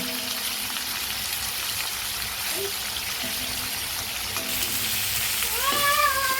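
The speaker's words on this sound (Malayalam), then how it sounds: "chicken fry ആയിക്കൊണ്ടിരിക്കുന്നു" Chicken fries in a pan with a constant dense sizzle and crackle, close and fairly loud, with a few faint thin tones rising near the end.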